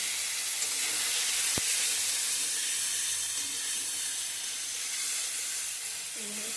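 Ground spice paste sizzling in a hot pan for egg curry, a loud continuous steamy hiss that holds steady, with one sharp click early and a little faint talk.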